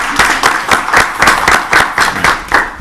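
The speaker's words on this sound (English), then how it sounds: "we want to give you a round of applause as well for being a nominee" At a town council meeting, a small group applauds a nominee with close, fairly loud clapping in a loose, uneven rhythm of distinct hand claps, with no speech over it.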